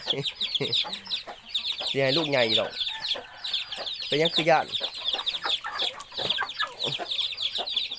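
A mother hen and her chicks cluck on a Thai farm, with repeated close calls and soft peeps while someone talks over them throughout.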